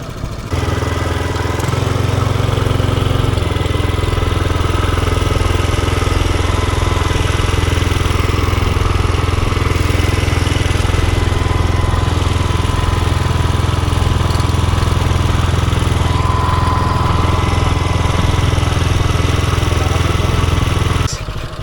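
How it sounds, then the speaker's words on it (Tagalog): A boat's motor on Caliraya runs close and loud, a steady, continuous mid-pitched engine drone with a faint rattly edge that holds unbroken from start to finish, with no voices over it. "May kakabit ko muna pati yung makina."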